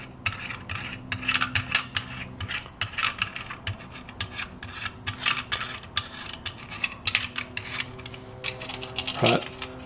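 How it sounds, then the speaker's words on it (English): A screw is driven through a homemade wooden fish finder mount, rapid rasping bursts of grinding and creaking up close, irregular and repeated, with a brief knock near the end. "we'll start screwing it through"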